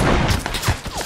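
Gunfire in PUBG Battlegrounds comes as a dense, booming volley of shots over about a second, loud and rumbling.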